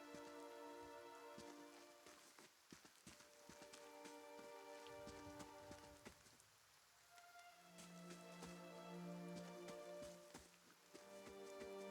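Steady rain falling in the fantasy role-playing game Pillars of Eternity, a soft continuous patter running throughout with faint tonal ambience and scattered drip-like ticks.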